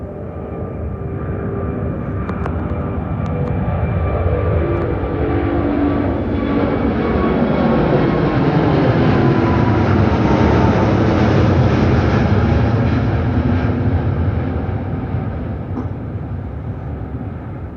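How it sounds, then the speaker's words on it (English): A British Airways Airbus A380 airliner bound for Johannesburg passes at Heathrow Airport, a broad jet roar swelling to a loud peak midway and then fading as it moves off, with no voices. "here comes the British Airways A380 to Johannesburg."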